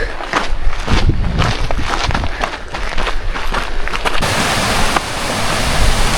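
A mountain creek on the Cucamonga Peak trail pours steadily and loudly, a continuous broad roar of water flowing close by, with no talking.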